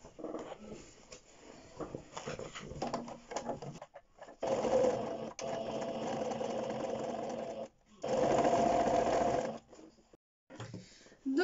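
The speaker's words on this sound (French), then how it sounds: "on vient coudre au point droit" A sewing machine runs straight stitch along a handbag seam in bursts of steady whirring, close and fairly loud, with pauses between runs and a brief voice early on.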